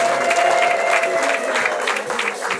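Wedding guests clap together in sustained, dense applause, fairly close and even, fading slightly toward the end.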